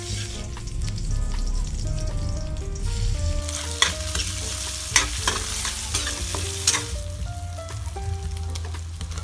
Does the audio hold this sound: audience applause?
no